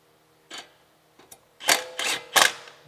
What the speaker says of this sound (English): I'm just gonna tap it with the impact gun, like that